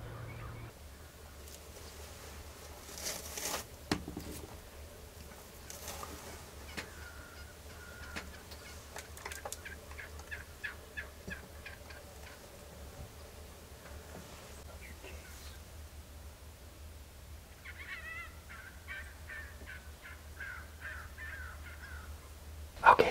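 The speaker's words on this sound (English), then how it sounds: "Those three big Rio Grande turkey that passed us and went to the other feeder" Rio Grande wild turkeys near a feeder during a turkey hunt call in rapid rattling bursts, moderately distant, repeating in two long stretches over low outdoor ambience and faint murmuring.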